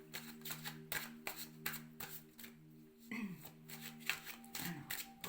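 Oracle cards are shuffled by hand in quick, crisp riffling bursts, close and fairly quiet, with a brief pause midway before the shuffling resumes, while a low steady hum sits beneath.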